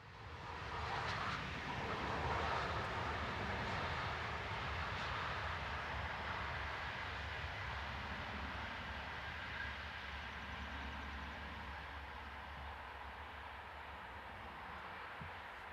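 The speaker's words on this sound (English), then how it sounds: "Sister locomotive number 101036 passes by in the other direction, with train EC390" Locomotive 101036 hauls train EC390 past at a distance. A quiet, continuous rumble and rail drone is strongest early on and fades gradually as it moves away, with no talk.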